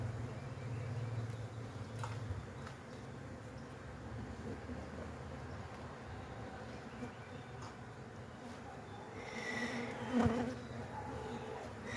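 Honeybees in a hive box being expanded to a second box, a dense steady hum of many wings droning continuously, with a few louder buzzes passing close near the end.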